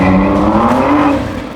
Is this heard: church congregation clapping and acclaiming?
no